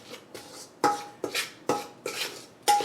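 A utensil clinks and scrapes around a bowl in quick rhythmic strokes as flour, sugar, baking powder, salt and cinnamon are mixed dry, with about seven close, distinct knocks.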